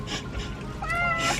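A house cat meows once, a short, bright, wavering cry near the end, close by against a low room background.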